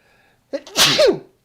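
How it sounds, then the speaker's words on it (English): A single loud, close sneeze bursts out after a brief quiet intake of breath. "Excuse me, I'm about to sneeze."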